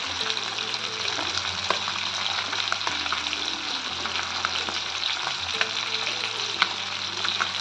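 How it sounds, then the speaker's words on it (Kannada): Rava-coated silver fish fry in a pan, giving a steady low sizzle with small pops and the occasional faint scrape, fairly quiet and with no talk. "ಒಂದು ಸೈಡು ಫ್ರೈ ಆದಮೇಲೆ ಇನ್ನೊಂದು ಸೈಡನ್ನು ಕೂಡ ಫ್ರೈ ಮಾಡ್ಕೊಳ್ಳಿ."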